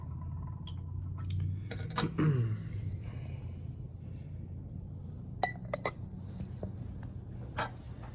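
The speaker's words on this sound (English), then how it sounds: "So I'm going to put the calcium into the water." Calcium metal is dropped into water in laboratory glassware, giving a few sharp glassy clinks and taps scattered over a quiet background hum, close and fairly faint.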